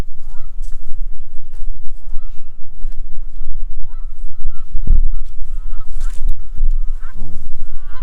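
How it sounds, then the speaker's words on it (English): Canada geese honking beside the Susquehanna River, a loud, close flock calling repeatedly throughout over steady outdoor rumble, with no talk. "The resident Canadian geese everywhere."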